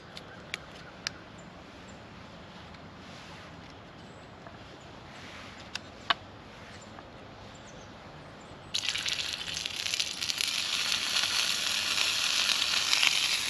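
Oil in a hot skillet at an outdoor camp breakfast of bannock and SPAM, quiet at first with a few sharp pops, then a loud continuous sizzle that starts abruptly and holds to the end.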